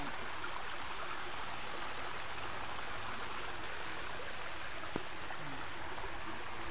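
A small stream flows steadily nearby, a constant rushing, burbling wash of water with no break, one faint click partway through.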